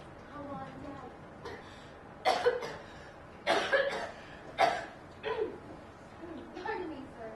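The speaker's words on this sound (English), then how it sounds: "That doesn't sound like a very good cough." A person coughs several times in short, harsh bursts, close by, with quiet background noise between the fits.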